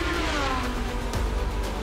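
A racing car passes on a track during a wet, foggy night race with concrete walls, a loud engine drone that sweeps down in pitch as it goes by.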